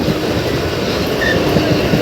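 A train rolls through a station platform with a loud, steady low rumble and rattling wheel noise and a brief faint squeal, heard close up with no talking.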